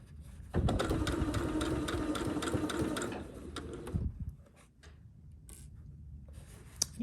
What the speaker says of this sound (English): You're just going to continue sewing all the way down this side.